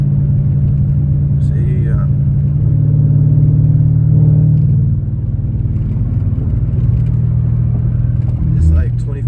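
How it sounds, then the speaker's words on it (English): A BMW 650i V8 engine fitted with front mount air intakes drones steadily at part throttle, with a loud, close rumble and a swelling tone, while someone talks briefly over it. "Let's get up into the boost range a little bit."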